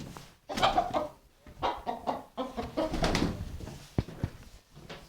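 Chickens clucking close by in a dark coop, a busy stream of overlapping clucks and squawks with a couple of sharp knocks near the end.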